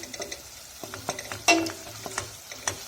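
Tomato paste frying in a pan for a bean and pastırma stew, a soft crackling sizzle punctuated by small clicks and a sharper stir or scrape midway, close and quiet.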